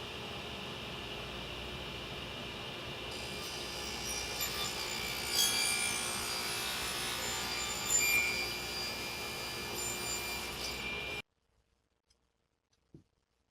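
Steady rasping strokes of a saw cutting a miter in wood for a double-mitered picture frame, a continuous close grinding scrape for about eleven seconds before stopping abruptly into near silence.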